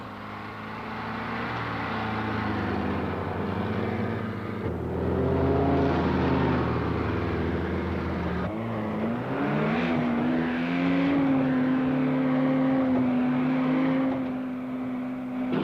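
A dune buggy drives along a beach, its engine droning and revving loudly up close, the pitch shifting between gears and rising in a sustained whine.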